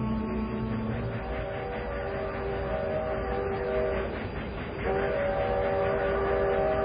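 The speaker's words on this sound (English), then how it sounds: "That's the eastbound freight." An eastbound freight train rumbles past steadily, with long sustained horn or whistle tones sounding over the continuous rolling noise of the cars.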